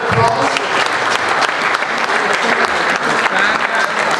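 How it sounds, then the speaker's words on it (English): Conference audience at a G20 event in Genova gives a loud round of applause, close and dense clapping that continues for the whole few seconds. "Give a round of applause."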